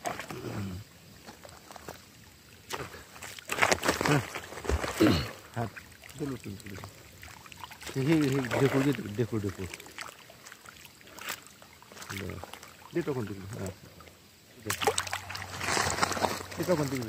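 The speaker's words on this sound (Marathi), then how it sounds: "आता सगळे बंद केलं मी आणि हे पाणी चाललंय तर डायरेक्ट शेवटपर्यंत बरोबर पोचते का." Irrigation water runs through a channel in a groundnut field at night, giving a steady gushing and splashing flow with louder surges, while voices are heard at times.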